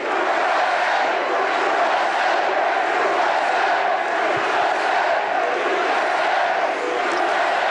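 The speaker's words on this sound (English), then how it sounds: "Oh, there's a nice crowd." A political rally crowd in Greensboro, North Carolina cheers and shouts in a dense, continuous roar that holds at a steady level for several seconds, with no single voice standing out.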